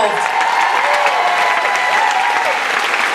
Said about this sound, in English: Give them a big round of applause, everybody involved.